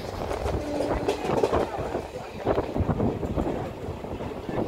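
A Saptagiri Express passenger train runs on rails toward Tirupati, giving a steady rumbling, clattering roll with wind buffeting the microphone, fairly close and continuous throughout.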